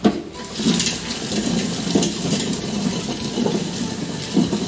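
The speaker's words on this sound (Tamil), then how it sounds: "காஞ்ச மிளகா, பூண்டு, உப்பு, மஞ்சள் போட்டு ஒரு 2 சுற்று சுற்றிட்டு" A kitchen mixer grinder whirs loud and steady as it grinds dried chillies, garlic, salt and turmeric for tapioca vada, a continuous close rumbling drone with faint rattling.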